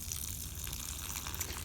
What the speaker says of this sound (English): Just watering each one a little bit.